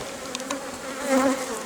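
Bees buzz in a steady, close drone inside an opened beehive whose frames are flooded with honeydew, the hum swelling slightly near the end.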